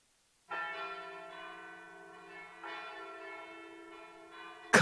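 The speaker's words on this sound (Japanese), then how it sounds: "鐘が鳴ってる" A church bell rings in the Tokimeki Memorial GS4 video game, two clear resonant strikes that each ring out and slowly decay, fairly loud against an otherwise quiet background.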